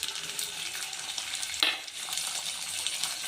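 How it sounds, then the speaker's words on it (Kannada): Field beans (avarekalu) frying in oil on a home stove give a steady, close sizzle with light stirring scrapes and one sharp metallic clink partway through. "ಒಂದು 2 ನಿಮಿಷ ಎಣ್ಣೆಲಿ ಫ್ರೈ ಆಗಲಿ"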